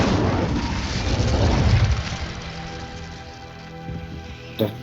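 An Incendio fire spell bursting in the Hogwarts Legacy game: a loud, rushing, crackling roar of flame that swells, then slowly fades, ending in a small final pop.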